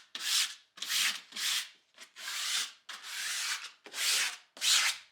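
Abrasive pad scuffs a Jeep Wrangler's interior surface ahead of adhesive for headliner liners and sound-deadening strips: about seven rhythmic back-and-forth rubbing strokes, close and fairly loud, with short pauses between, no talking.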